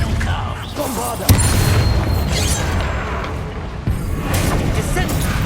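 Spell explosion in the Hogwarts Legacy video game: a sharp booming blast with a sustained roaring rumble and a second thump later, loud and close over game sound.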